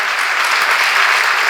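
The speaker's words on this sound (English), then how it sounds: "Give him a round of applause for being the first." Loud, close applause from a storytelling event audience, a thick continuous roar of clapping that holds steady throughout.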